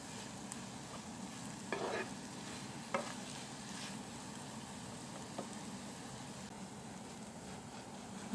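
Onion cooks to golden in a pan, giving a steady low sizzle with a few brief scraping stirs, faint and continuous with no voices.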